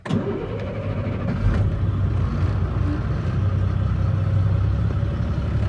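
A Class A truck tractor's diesel engine cranks and catches at the start, then settles into a loud, steady idle close by, with brakes set and the tractor in neutral.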